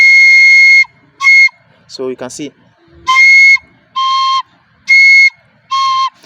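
A beginner's recorder sounds a high C in several short, piercing sustained notes, alternating with slightly lower tones. A brief spoken phrase breaks in near the middle.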